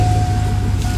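Homemade wood-bodied farm truck engine idling with its catalytic converter cut off, a brief steady loud low drone with a rough pulsing exhaust note.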